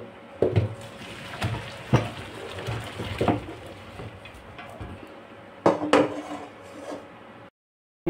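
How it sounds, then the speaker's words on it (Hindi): Metal pots and utensils clatter as boiled chicken is shut off and tipped into a strainer in a home kitchen, with sharp clanks and knocks scattered among softer handling noise and a brief silence near the end. "अब हम इसको बंद कर देते हैं और इसको एक छन्ने में फंसा देते हैं"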